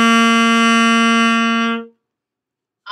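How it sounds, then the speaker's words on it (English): A single steady saxophone note, G, held for about two seconds, close and clear, then a sudden stop into silence. "This is what G sounds like."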